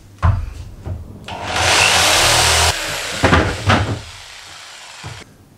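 A power tool cuts a wooden board along a marked line to make strips for a homemade overhead camera rig. Short knocks lead into a sustained, loud cutting whine of about a second and a half, followed by clattering handling noises.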